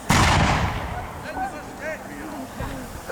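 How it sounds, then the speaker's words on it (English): An English Civil War re-enactment cannon at Tattershall Castle fires a single loud, booming shot that rolls out over open ground, followed by a commentator talking over the fading rumble. "The Parliament gun is still firing back at the Royalist column"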